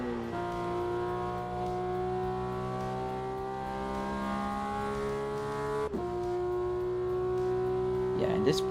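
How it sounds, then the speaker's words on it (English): A Porsche engine drones steadily with a strong harmonic tone, holding a near-constant pitch, then briefly drops and picks up again, loud and continuous. "this Porsche sounds so nice"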